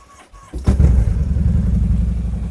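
A Kawasaki VN 2000 motorcycle with a 2.1-litre petrol engine cranks and catches at about half a second, then settles into a loud, close, steady throbbing idle that continues to the end.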